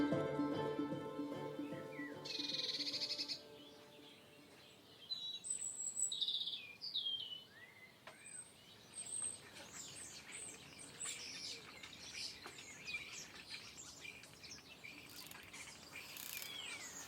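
Small birds sing in a spring garden, with overlapping chirps, trills and whistled phrases at moderate distance, with faint insect buzzing beneath and a brief flutter of wings.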